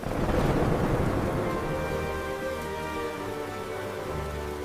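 Steady rain pours down in a dense, even wash, joined by a low rumble and soft tonal music that grows beneath it.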